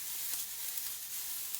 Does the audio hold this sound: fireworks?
no